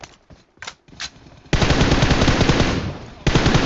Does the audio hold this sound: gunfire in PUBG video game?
yes